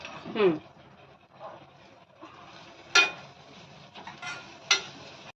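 Ingredients and turmeric being stirred in a pan in a home kitchen, with a few sharp utensil clinks and scrapes against the metal between quieter shuffling stirs, close up.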